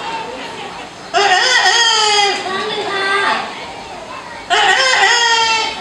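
A man imitates a rooster crowing at a bird show: a loud, strained cock-a-doodle-doo, a quieter follow-up, then another sharp crow begins.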